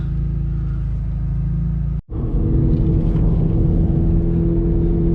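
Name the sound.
stage 3 Subaru WRX car driving and revving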